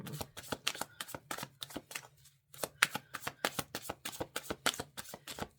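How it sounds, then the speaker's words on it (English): A deck of playing cards being shuffled up close, with rapid rattling riffle bursts repeated in quick succession and one brief pause partway through, loud and crisp with no talking. "Let me shuffle these up a little bit more"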